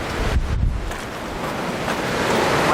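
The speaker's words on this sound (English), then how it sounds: "They're saying it's 120 km/h winds and gusts." Strong wind gusts of about 120 km/h in Newfoundland roar steadily and loudly into the microphone in a broad, rushing buffet, with a heavier burst early on.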